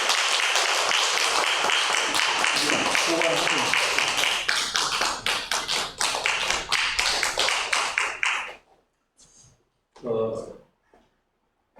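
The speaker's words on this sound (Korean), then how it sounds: "박수로 축하해주십시오." Church congregation applauding a birthday gift presented to a deacon, with dense clapping that thins into scattered claps and fades out, followed by a brief voice.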